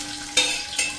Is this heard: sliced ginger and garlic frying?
yes